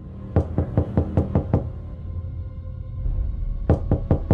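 Knocking on a door in an indie horror video game: a fast run of about six sharp raps, a pause with low ambient hum, then another quick burst of four knocks, loud and close.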